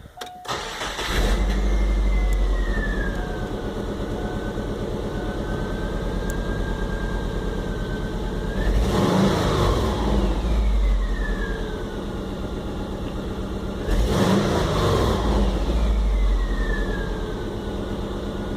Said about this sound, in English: Let's fire her up and see what she sounds like.